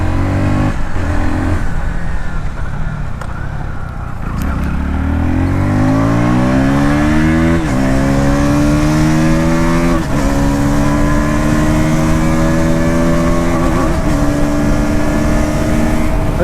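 A KTM Duke 160 motorcycle engine revs hard and climbs repeatedly through gear shifts without the clutch, each rising pitch sweep broken by a brief dip, loud and sustained with wind rush underneath.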